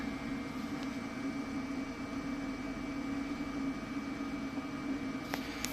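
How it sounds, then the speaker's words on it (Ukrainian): A steady, even rushing hiss with a low hum underneath from an electric kettle heating water to a boil, continuous throughout. "Кипить. Кипить електрочайник."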